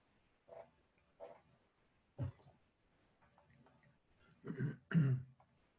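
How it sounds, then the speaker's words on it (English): A person clears their throat several times, a few short rough bursts followed by two louder, heavier ones close by, with no talking. "I'm going to clear my throat here"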